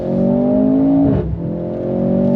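A 2024 Mercedes-AMG C43 sedan under throttle in Sport Plus, a loud steady engine drone heard from inside that briefly dips and drops pitch with a quick upshift, then climbs again.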